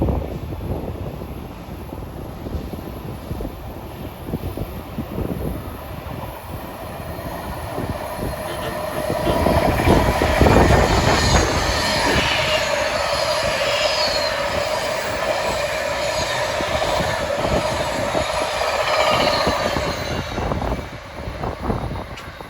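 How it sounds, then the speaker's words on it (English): New Jersey Transit train 3723 with Arrow multiple-unit cars passes on the Northeast Corridor at Linden, building to a loud, close roar with wheel squeal, then easing off. "This is train 3723 en route from New York to Jersey Avenue"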